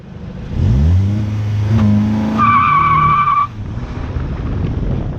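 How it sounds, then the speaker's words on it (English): A 2018 Volkswagen GTI launching with launch control breaks into loud, sustained wheel spin: the engine revs hard while the tires squeal with a shrill, steady howl for about a second before the noise drops away. "leads to a tremendous amount of wheel spin."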